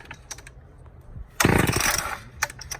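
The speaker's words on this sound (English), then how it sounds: "Deep sound for a chainsaw." A 1985 Homelite Super XL chainsaw, cold after a year unused, sputters after a few pull clicks, then catches and roars loudly for about half a second before dropping back to rough, intermittent bursts.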